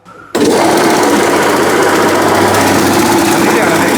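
A homemade machine with a wooden body and steel lower part starts up to mash bananas, kicking in abruptly after a brief quiet start and then running as a loud, steady mechanical drone.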